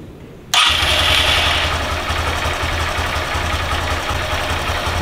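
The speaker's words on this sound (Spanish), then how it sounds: "Encendemos la motocicleta." A motorcycle engine cranks and catches abruptly, then settles into a steady close idle with a throbbing low rumble, alone with no talk.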